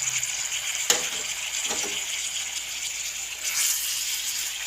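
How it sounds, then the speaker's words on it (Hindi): Tomatoes and green chillies frying in a pan, a steady high sizzle throughout with a couple of sharp clinks from stirring and a brief rise in hiss near the end. "टमाटर और मिर्चें मैंने ऐड कर दी हैं। इनको हल्का सा हमने भूनना है।"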